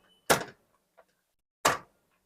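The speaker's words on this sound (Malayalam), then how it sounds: "ഏതായാലും ഡോർ നടച്ചേക്കാം" Two short metallic clacks spaced over a second apart as the door of a spacious love bird cage is shut, with a faint tap between them in an otherwise quiet room.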